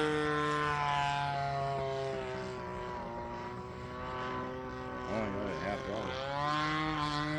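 A giant Stick model airplane with a gas engine and suspected electronic ignition trouble drones at half throttle, a steady buzzing tone with strong harmonics that wavers slightly as it passes, while people talk faintly nearby.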